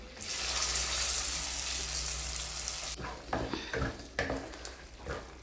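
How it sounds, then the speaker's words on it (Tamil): Loud, dense sizzling of cumin seeds crackling in hot oil for about three seconds, then it cuts to scattered clinks and scraping of a pan. "சாகி ஜீரா நல்லா வெடிக்கும். இப்போ தான் வெடிக்க ஆரம்பிச்சிருச்சு."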